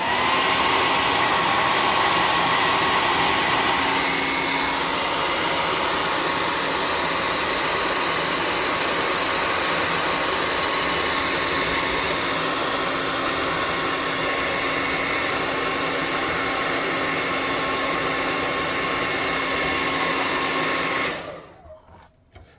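A dryer blows steadily to dry tabletop terrain scatter for a hangar fight, a loud close whooshing hum that holds for about twenty seconds and then cuts off abruptly.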